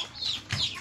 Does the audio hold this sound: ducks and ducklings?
yes